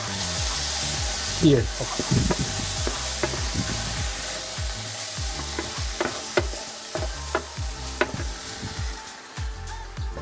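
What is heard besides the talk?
tomato sauce added to butter chicken curry, sizzling and stirred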